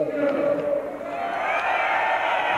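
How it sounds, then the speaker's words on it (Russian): Bandy fans cheering inside an arena at a Russian-versus-Finnish club match, a steady wash of crowd noise with shouts held at an even level throughout. "Да, активно встречают болельщики"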